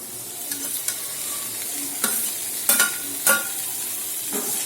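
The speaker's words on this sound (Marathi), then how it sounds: "आता याच्यामध्ये आपण भाज्या टाकू आता आपण ह्याच्यात भाज्या टाकून घेऊया" Mixed vegetables tipped into cooked masala in a pan and stirred, giving a steady sizzle of frying with several distinct scraping stirs of a spoon against the pan.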